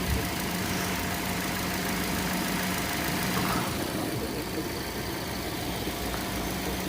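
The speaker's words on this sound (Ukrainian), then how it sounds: "Але так двигунчик працює гарненько" An Audi car engine idles steadily with a low, even hum and faint knocking texture, running alone without voices for several seconds.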